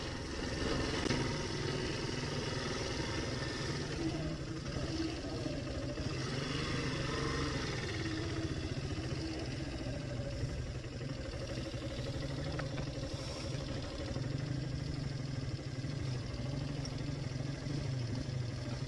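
A motorcycle rides along a bypass road, its mid-pitched engine droning steadily and close for the whole stretch, with rumbling road and wind noise and no talk.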